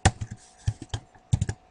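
Keys on a computer keyboard are pressed while working in a Unix shell editor, with Escape and then letter keys tapped. Sharp, close clicks come in short clusters separated by pauses, with no talking.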